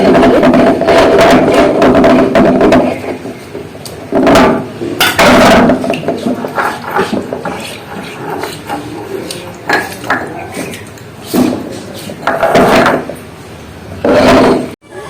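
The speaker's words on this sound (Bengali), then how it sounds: "শিলটা একটু ধুয়ে নেবো" A stone grinding slab (shil) being washed with water after grinding spices in a Bengali kitchen: loud, irregular knocks and clattering scrapes of stone come in bursts with quieter gaps, and no one speaks.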